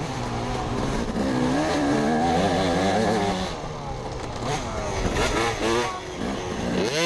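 A dirt bike engine on a motocross race track revs hard and steadily under acceleration for several seconds, loud and close, its pitch rising and falling through a corner with no talk over it.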